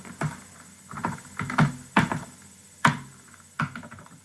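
Typing on a computer keyboard while entering table data in HTML, a sparse sequence of about eight close, crisp key clicks with short irregular gaps.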